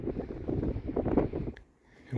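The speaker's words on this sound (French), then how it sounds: "Alors, ça souffle pas mal, le vent s'est levé." Wind gusting across a rampart balcony, blowing hard against the microphone as a steady, rough low rumble before it briefly dies down.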